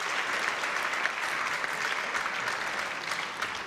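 Steady audience applause filling an arena at a European Top 16 table tennis match between Skachkov and Karlsson, a dense clapping wash at even loudness from start to finish.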